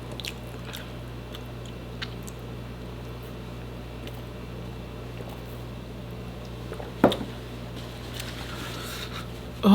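One crisp crunchy bite into a thick Philly cheesesteak pizza crust stands out against quiet background hum, followed by faint chewing.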